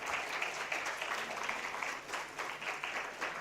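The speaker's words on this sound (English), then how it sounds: "big round of applause" An audience at a TalentNomics India conference gives the TalentNomics team a big round of applause, dense sustained clapping filling the room from start to finish.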